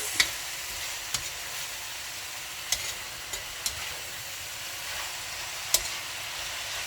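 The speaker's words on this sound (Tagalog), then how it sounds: "It's only like you're making a stir fry." Vegetables for pancit bihon sizzle steadily in a hot pan, a continuous close frying hiss broken by occasional sharp scrapes and clinks of stirring.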